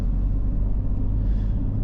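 A Jeep Cherokee XJ engine hums and rumbles steadily from inside the vehicle, a low continuous drone under gas while climbing a hill.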